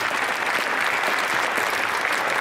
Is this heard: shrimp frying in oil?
no